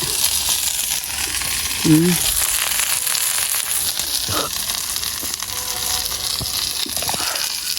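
Garlic sautéing in a pan for a home-style Sri Lankan Tamil sweet potato curry, a continuous close sizzle with a few utensil clinks and brief bubbling.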